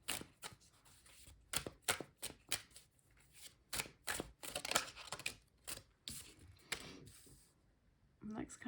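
Tarot cards shuffled by hand, a series of close, crisp riffling bursts at an uneven pace with short pauses between them.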